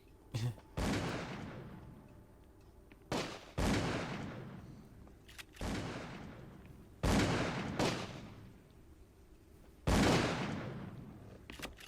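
Gunfire in the horror video game Call of Cthulhu: Dark Corners of the Earth, five sharp single shots spaced a couple of seconds apart, each ringing out and fading into dark quiet ambience.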